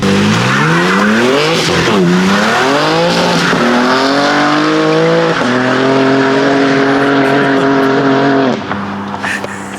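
A BMW M3 drifts through a street corner, tires squealing loudly in long wavering howls over a revving engine, sustained and close before easing off at the end.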